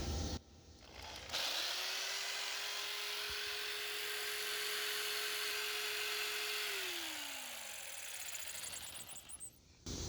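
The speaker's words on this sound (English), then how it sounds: "the jigsaw added about another 250, 300 watts there, and just kept on trucking" A corded jigsaw cutting material, powered by a Jackery Explorer 1000 portable power station, gives off a steady, faint mechanical whine for several seconds that then drops in pitch as it winds down, with a hissy background.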